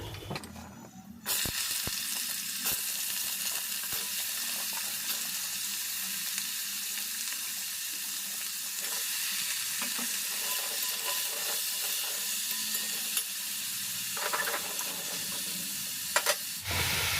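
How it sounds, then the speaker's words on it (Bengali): Vegetables, including yardlong beans cut into one-inch pieces, frying in oil with dried red chillies and five-spice seeds for a winter radish-greens chorchori: a steady, close sizzle that runs continuously with faint stirring and no talk. "এগুলো এবারে ভাজা ভাজা হোক"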